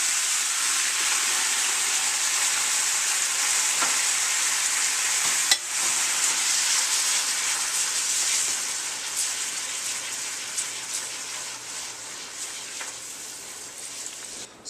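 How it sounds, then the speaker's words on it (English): Red wine hitting a hot pan of steak drippings, giving a continuous loud sizzle and hiss that slowly eases off, with a small clink partway through and no voices. "we want to deglaze the pan"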